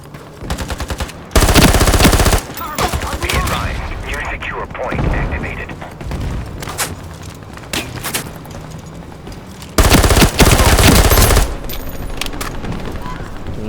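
Loud automatic gunfire bursts from the Ironsight video game, with sustained full-auto strings near the start and again later, mixed with game effects and someone talking over much of the action.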